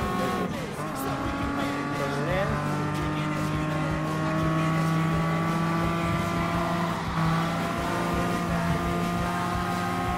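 TVR Tuscan Speed 6 racing in Gran Turismo Sport: a loud, steady engine drone with shifting pitch sweeps as it accelerates, with brief tire squeal, continuous for the whole span while a voice talks over it.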